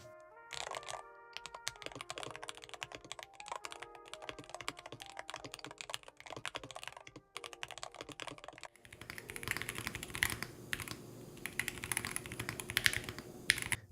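Steady typing on a Hall-effect keyboard with rapid, crisp keystrokes and clacks, close up, continuing without pause and growing denser and louder toward the end.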